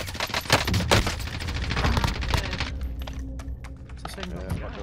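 Rapid bursts of automatic gunfire from an M4 rifle in the Warzone battle royale game crack out close and loud in dense clusters, with a player's voice talking over the shooting.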